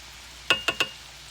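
Seasoned vegetables with salt and garlic powder get stirred in a frying pan, three quick metallic clinks of a utensil against the pan over a faint background hiss.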